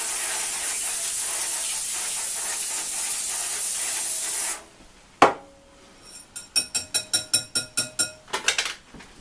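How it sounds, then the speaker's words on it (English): A steady hiss of cooking spray onto a pan for several seconds, then a sharp clack and a quick run of light rattling clicks like a can being shaken. "spray it with some ham stuff, cooking spray"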